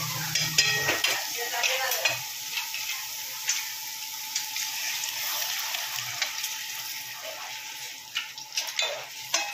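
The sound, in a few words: boiled chicken added to frying green chilli masala, stirred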